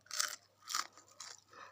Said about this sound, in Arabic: سامعين القرمشة؟